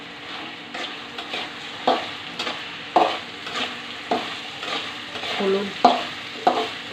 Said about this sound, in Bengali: প্রথমে পেঁয়াজ, তেল, রসুন দিয়ে ভেন্ডিটাকে ভেজে ফেলে